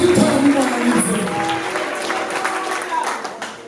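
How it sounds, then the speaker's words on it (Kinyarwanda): A church audience at a worship concert claps in sustained applause that fills the whole stretch, with a voice audible underneath. "Twayikomeye amashyi menshi cyane."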